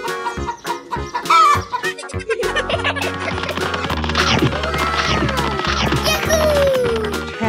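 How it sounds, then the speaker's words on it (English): Loud, close chicken clucking in rapid bursts sits over a busy, cluttered mix of toy-like crashes, bangs and musical tones, with a rising squeal near the end. "Chicken."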